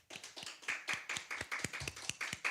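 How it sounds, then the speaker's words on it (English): A church congregation at a Sunday service applauds, a small group's clapping heard as distinct rhythmic hand claps, close and moderately loud with no speech. "you can join with us as we give another applause"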